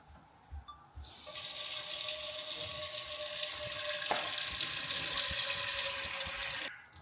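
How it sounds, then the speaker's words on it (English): A kitchen tap is turned on and runs in a steady close rushing stream into a sink for about five seconds, then shuts off, with no talking. "now I'm gonna be putting in some water"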